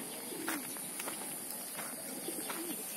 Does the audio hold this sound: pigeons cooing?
yes